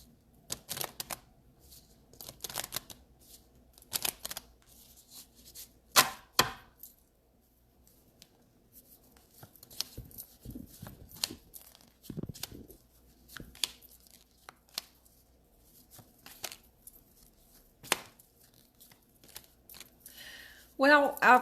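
Cards are shuffled and handled for a tarot-style reading, making scattered quiet riffles, snaps and taps spread through a mostly hushed stretch, with a louder flurry at the end.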